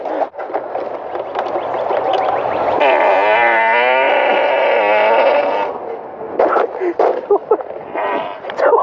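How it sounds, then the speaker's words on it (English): A loud, drawn-out fart, a buzzing rasp that holds for several seconds and wavers in pitch, followed by choppy sputters as voices come in near the end. "Are you trying to fart?"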